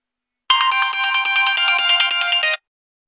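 An incoming-call ringtone sounds on a phone, a single bright electronic melody of rapid repeating notes lasting about two seconds, clear and close against silence.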